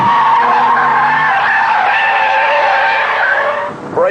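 A VW Corrado skids hard on a disused runway, its tires squealing in a loud, sustained, wavering screech that fades briefly near the end before a sharp final chirp.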